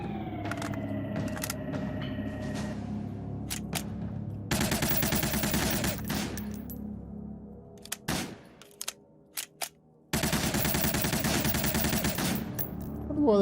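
Rapid bursts of video game gunfire, sustained loud volleys broken by short gaps and scattered single shots, with no talking.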